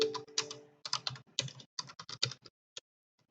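Close typing on a computer keyboard, with quick bursts of crisp key clicks in an uneven rhythm that trail off into a few single taps and no talk.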